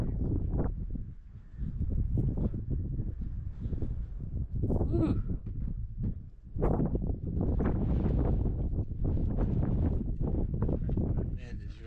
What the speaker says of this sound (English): The wind is awesome.